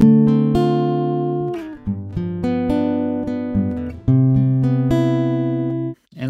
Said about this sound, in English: I'm gonna play around with some guitar so you could hear it in action